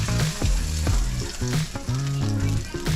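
Gag grouper fillet sizzling in a hot skillet while being lifted out, loud crackling fry with repeated scraping and clattering spatula strokes close up.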